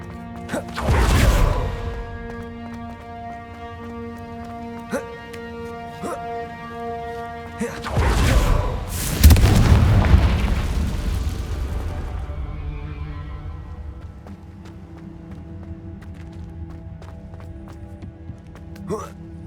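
Two loud Confringo spell blasts from Hogwarts Legacy, the first near the start and a bigger burst around the middle, each a broad crash over a steady musical game score, with a faint voice shouting the spell.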